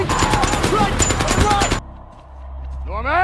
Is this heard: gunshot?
yes